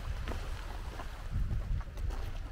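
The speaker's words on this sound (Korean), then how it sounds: "이렇게 바로 파도가 앞에서 치는" Ocean waves break close in front at a seaside fishing spot, a rough washing surge with wind buffeting the microphone, several swells rising and falling over a couple of seconds without speech.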